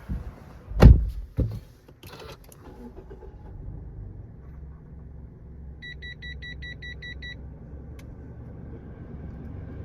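A 2016 Mazda 3 starts up: a sharp thump and brief crank-like burst, then a low steady idle rumble with a run of electronic chimes from the dashboard.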